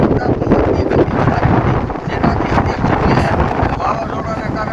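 Strong wind during a thunder and rainstorm roars and buffets the microphone in a loud, continuous rumble, with a voice partly audible beneath it.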